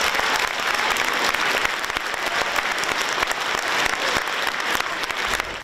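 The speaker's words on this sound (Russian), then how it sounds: "крики «Браво!», овации, аплодисменты." A theatre audience delivers a sustained ovation, with dense, even applause filling the hall for several seconds without a break.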